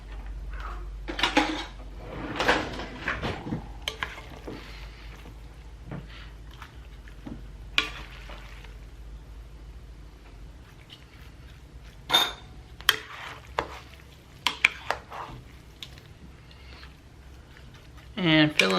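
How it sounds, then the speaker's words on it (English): Spoonfuls of a spaghetti squash and broccoli mixture go into pasta shells for a lasagna, giving soft scrapes and clinks of spoon against dish with some louder clanks of cookware, under intermittent talking. "we're going to divide our mixture up into our shells here"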